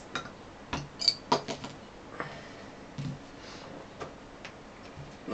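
A bottle of Sandringham Diamond Ale being opened, heard close up as a run of light clicks and taps from the cap and glass, with a brief soft fizz partway through and no voices.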